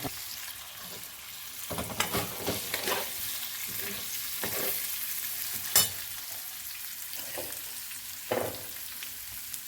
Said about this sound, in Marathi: आता हे मसाला असा तेलात परतून घ्यावी